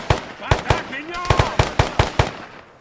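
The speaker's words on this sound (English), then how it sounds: "that is a lot of unfair grenade usage very quickly" Grenades explode in rapid succession in the Arma 3 video game, about ten sharp, punchy bangs at uneven short intervals. A brief whistling tone rises partway through.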